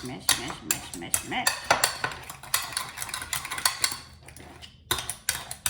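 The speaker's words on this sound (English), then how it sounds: "So I am going to use the masher to mash them." A masher strikes ripe bananas in a bowl for banana bread with repeated soft, squishy thumps and clinks of metal against the dish, an irregular close rhythm that pauses briefly before resuming.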